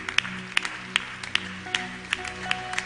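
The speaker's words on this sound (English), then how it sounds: "Continue to clap those hands beautifully." A church congregation claps hands in a steady rhythm, sharp claps about every half second over a soft sustained musical drone, with no talking.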